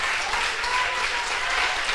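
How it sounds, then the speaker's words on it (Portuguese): A church congregation applauds during a worship service, a brief, even wash of clapping that is fairly soft and fills the whole moment. "Aplauda o nome do Senhor"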